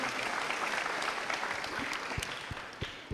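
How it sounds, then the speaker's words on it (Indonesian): A campaign rally crowd in Banjarmasin, South Kalimantan, breaks into sustained applause, a dense wash of clapping that thins out toward the end with a few louder individual claps. "Tepuk tangan untuk kita semua."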